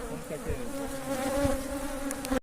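A steady, close swarm drone rises from honeybees agitated by an opened hive in an apiary, the buzzing building slightly before cutting off abruptly.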